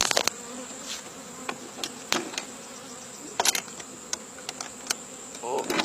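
Bees buzz steadily around a Kenyan top bar beehive, a continuous close insect drone with scattered sharp knocks and taps from the hive as it is closed.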